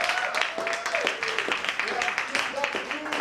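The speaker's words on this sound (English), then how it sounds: "let's give our judges a big round of applause" A spoken word poetry competition audience claps for the judges, with a steady patter of applause under a speaking voice and a few louder, closer claps.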